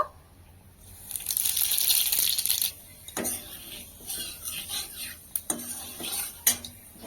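A tempering of chandani phoron spices is dropped into hot oil in a kadai or wok, giving a loud, brief burst of sizzling. Scattered metallic clinks and scrapes of a spatula against the pan follow, with no voices.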